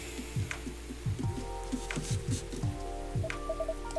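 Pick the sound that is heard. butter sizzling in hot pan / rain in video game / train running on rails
rain in video game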